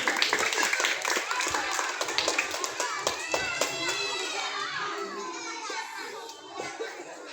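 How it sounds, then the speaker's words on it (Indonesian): Children at a Quran learning group clap together, giving a burst of quick, scattered claps with lively children's voices and chatter mixed in, moderately loud and fading a little toward the end. "Tepuk tangan untuk kamu"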